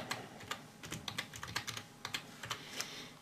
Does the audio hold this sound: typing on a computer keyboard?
yes